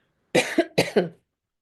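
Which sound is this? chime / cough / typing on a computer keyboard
cough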